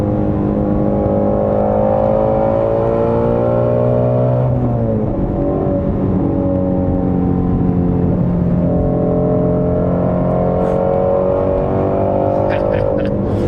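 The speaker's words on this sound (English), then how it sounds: "You can probably not even hear me over this awesome motor though." A 2017 Ford Shelby Mustang GT350R engine revs loudly and steadily while driving and shifting up through the gears, its harmonic roar rising and dipping with a brief drop around a gear change, while someone talks throughout.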